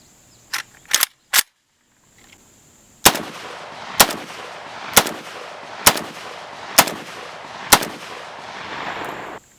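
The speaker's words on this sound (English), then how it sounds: "Now we're just going to hold the rifle loose and see if we can get a really good gauge of the recoil." Loud rifle shots fired through a JMAC Customs RRD 4C muzzle brake at a shooting range: a few distant reports first, then six sharp, evenly spaced nearby blasts, each with a ringing tail.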